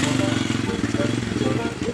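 A motorcycle engine runs steadily and close by for the whole stretch, a low rumbling drone in a Sundanese village comedy scene, with a voice talking over it.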